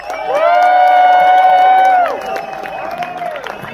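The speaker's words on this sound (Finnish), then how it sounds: "Dicken, fetten Applaus für Team Finnland!" Crowd at a motorcycle stunt event cheering and applauding for Team Finland, a loud sustained roar with whoops for about two seconds, then fading to scattered cheers as a tonal horn-like sound sits over the noise.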